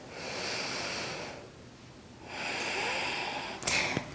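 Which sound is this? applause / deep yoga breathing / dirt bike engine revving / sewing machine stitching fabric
deep yoga breathing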